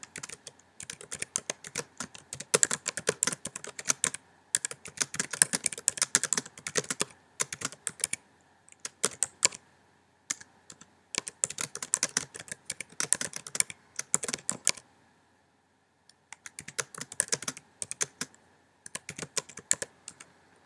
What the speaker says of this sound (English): you can type as much as you want